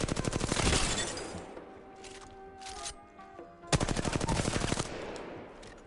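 R-301 rifle gunfire in a video game: two long rapid full-auto bursts of sharp shots, separated by quieter game sounds and a few brief clicks, loud and close.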